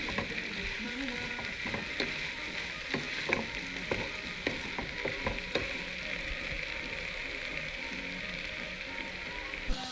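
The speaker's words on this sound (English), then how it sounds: "Stir fry the vegetables until they are cooked." Vegetables and potatoes stir-fried in a pan with turmeric and garam masala, a steady close sizzle and crackle broken by frequent scraping and clinking of a spatula against the pan.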